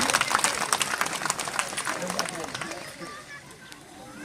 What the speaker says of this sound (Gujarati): આપણે તાળી પાડીએ ધન્યવાદ કરીએ